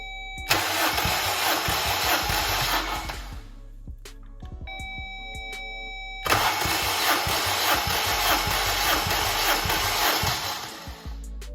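A Honda K-series engine swapped into an Acty kei truck cranks over on its starter during a compression check, with the throttle body held open, in two long rhythmic whirring bursts separated by a short pause and a chime.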